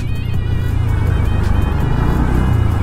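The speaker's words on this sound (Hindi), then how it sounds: "अरे यहाँ पे अब भयंकर ट्रैफिक लग गया है" Busy, congested road traffic rumbles close by, with a steady loud engine drone from cars and motorcycles holding evenly through the short stretch.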